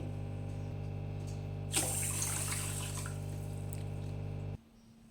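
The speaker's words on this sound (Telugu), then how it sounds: "ఇలా నీట్గా రైస్ వాష్ చేసుకున్నాం కదా అండి" Rice is washed under running water, a steady faucet stream with a brief swishing splash in the middle before the flow stops near the end.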